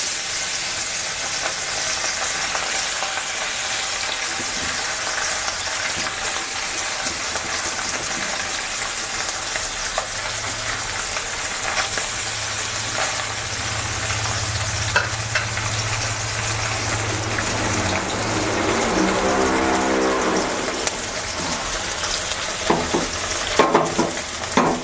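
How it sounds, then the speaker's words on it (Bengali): Small chanda fish frying in hot oil in a wok, a steady dense sizzle and crackle running throughout at close range, with a low bubbling swell in the middle and occasional stirring clinks near the end. "হালকা করে মাছগুলো আমি ভাজবো।"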